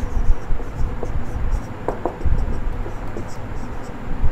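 Chalk or a marker on a board while an accounting journal entry is written, heard as faint, short scratchy strokes in small clusters under a low room hum, with a voice talking at times.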